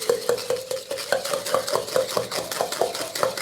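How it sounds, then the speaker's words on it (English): Mint leaves, rum and mojito ingredients churned and muddled in a glass, a steady run of close, quick clinking and scraping strokes with no talking. "when you're churning, you want to make sure you're lifting up all the ingredients from the bottom and chopping up those leaves to release that minty flavour"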